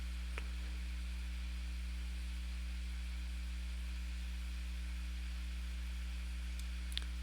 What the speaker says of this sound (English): And my air conditioner kicked on.